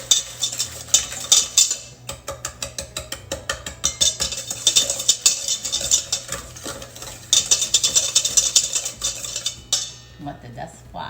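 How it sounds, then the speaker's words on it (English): A whisk scraping and clinking rhythmically in a bowl of dry pie ingredients with ground cinnamon and nutmeg, steady fast strokes in bursts with short pauses between. "We're going to whisk this around."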